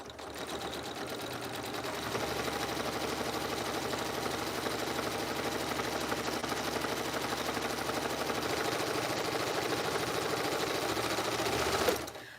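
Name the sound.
sewing machine stitching a zippered pouch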